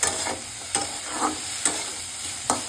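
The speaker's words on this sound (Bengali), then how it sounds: "গোলমরিচ, গাজরটা দিয়ে সিম্পল সটেড" Black pepper and carrot sautéed in a pan, a soft sizzle with four sharp scraping stirs at regular intervals, close and moderately quiet, with no voices.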